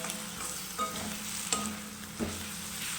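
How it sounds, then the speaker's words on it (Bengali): Spicy food frying in a pan and being stirred: a steady sizzle, broken by three distinct scraping strokes spread across a few seconds, close and clear with no talk. "ভালোভাবে নাড়বো।"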